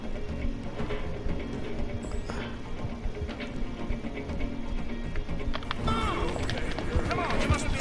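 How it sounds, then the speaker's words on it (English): Horse galloping in the video game Red Dead Redemption 2, a steady rhythmic run of hoofbeats under someone talking. "My horse is tired as hell."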